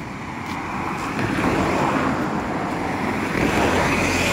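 A steady roar of surf and wind washing along the shore, continuous and fairly loud with no voices.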